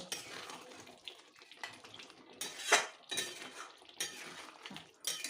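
A metal spoon scrapes and clinks around a pot while white chicken with ghee and garam masala is stirred, the knocks coming in irregular bursts, close and fairly quiet.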